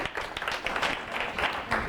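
A workshop audience at a session on inclusion claps briefly, a short, moderately loud patter of many hands with uneven bursts.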